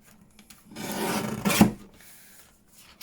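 A small paper trimmer slices through a file folder with one short close rasping cut lasting about a second, surrounded by near silence.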